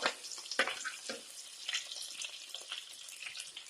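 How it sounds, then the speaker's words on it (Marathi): Green chilies frying in a pan for sabudana khichdi give a light, crackling sizzle with a few sharper spatters near the start, heard alone and fairly close with no talking. "मिरची भाजू द्यायची आहे."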